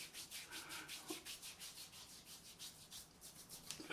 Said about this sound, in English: Just rubbing that in a bit.